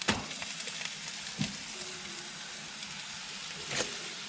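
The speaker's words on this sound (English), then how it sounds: "we got the sizzle" A steady, crackling sizzle of bacon frying in a pan, with a few soft knocks and scrapes over the hiss.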